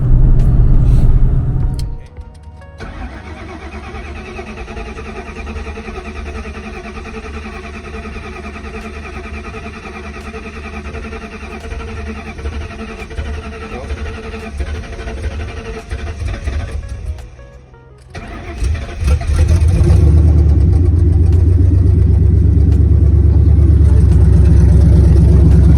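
A rebuilt Ford Mustang New Edge engine fires up for its first start, settling into a steady loud idle. It cuts out briefly, then restarts and revs with a deep, rising rumble.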